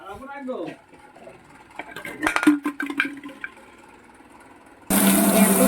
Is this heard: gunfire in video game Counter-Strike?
no